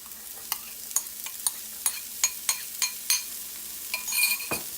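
Cauliflower being stirred into golden-brown frying onions in a pan for veg Mughlai paratha filling, with a string of sharp spatula scrapes against the pan over a low sizzle.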